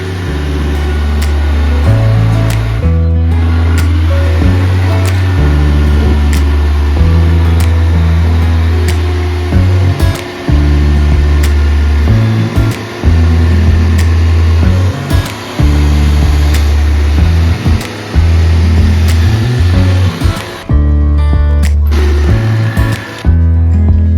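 A power tool cuts out a camper van divider panel. Its loud, steady motor drone runs close up, dropping out briefly several times between passes.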